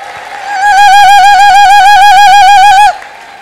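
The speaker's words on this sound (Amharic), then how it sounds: "ከዚህ የበለጠ እልልታና ጭብጨባ አምጡ" Ululation at a church service, a single loud, high, rapidly wavering trill held for a little over two seconds, close and clear, with no clapping standing out.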